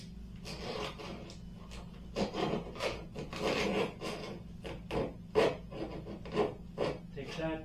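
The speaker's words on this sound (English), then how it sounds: "what I'll do is use the saw, cutting on the bottom" A hand saw cuts through a wooden wing rib during repair of a P-51 model aircraft wing, giving a quick series of close, rhythmic rasping strokes.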